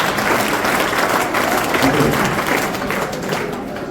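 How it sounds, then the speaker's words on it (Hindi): Audience applause for a schoolgirl during a police-run classroom session in Mainpuri, steady dense clapping filling the whole stretch at moderate loudness, with faint voices mixed underneath. "ताली बजाइए इनके लिए।"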